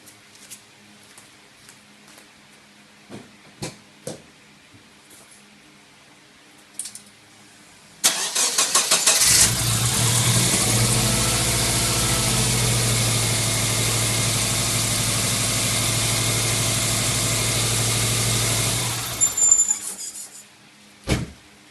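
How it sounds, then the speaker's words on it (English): A Subaru EJ engine cranks and catches after a few quiet clicks and taps, then idles steadily and loudly up close for about ten seconds during a cooling system flush before being switched off. "What we're going to do now is just start the car for a few seconds just to get the water circulating and then stop it"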